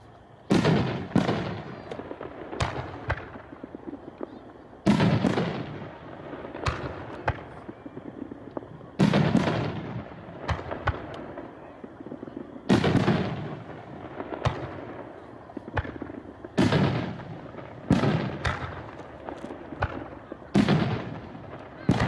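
A 3-inch, 9-shot 500 gram consumer firework rack called I Want You fires a loud series of sharp launch thumps and booming aerial bursts, spaced every couple of seconds across the whole stretch, with faint crowd voices in between.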